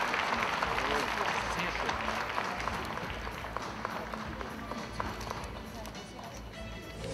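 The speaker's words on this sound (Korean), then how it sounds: "박수를 부탁드립니다." Audience at a 2014 entrance ceremony of the Seoul School of Arts claps in a large hall: a soft, distant patter of many hands runs steadily under continuous talk, fading slightly over time.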